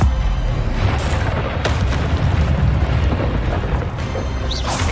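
Incendio fire spell cast in the Hogwarts Legacy video game, a booming whoosh of flame bursting out with sharp crackling flares over a dense rumbling bed.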